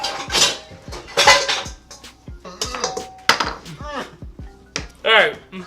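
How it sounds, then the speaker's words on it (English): Dishes and a bowl clatter and clink in a home kitchen during pizza making, with repeated close knocks and ringing scrapes of ceramic and metal in an irregular rhythm. "let's just get a bowl."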